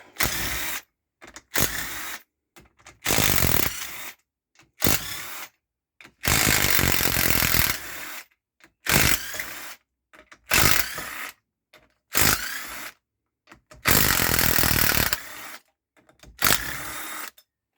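Power tool, likely an impact driver or ratchet, undoing bolts on a 31ci single-cylinder Briggs engine being race-prepped, in repeated loud one-to-two-second bursts separated by short pauses, with no talking.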